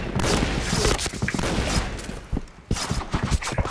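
Rapid bursts of gunfire in the online shooter Point Blank, dense overlapping shots and short volleys with brief gaps, loud and close, with faint game noise between bursts.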